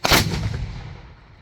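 A Civil War cannon fires a single loud, close blast that booms and then rolls away into a fading echo over about a second and a half.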